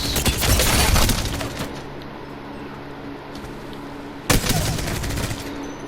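Gunfire from a gun in Apex Legends, a dense rapid burst of loud shots up front, then quieter game ambience with a faint high whine, and another sharp crack of firing near the end.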